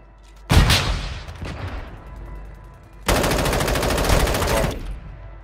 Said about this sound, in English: People from the rooftop 30 are shooting us from the bioweapon lab.